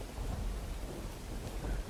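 Heavy monsoon rain over farmland in Surendranagar with standing cotton, millet, sorghum and groundnut crops, a quiet, distant continuous wash of rain with a low rumbling undertone.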